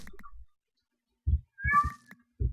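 A cat in a video game gives several short meows, close and clear, separated by brief silences.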